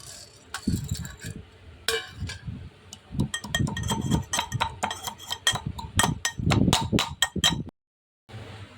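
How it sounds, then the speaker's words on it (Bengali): Black pepper and two cardamom pods being crushed, a run of sharp clinks and knocks in an irregular rhythm, close up, stopping briefly before one last tap. "এখানে কিছু গোলমরিচ আছে দুটো এলাচ আছে এইটা থেতো করে নিচ্ছি"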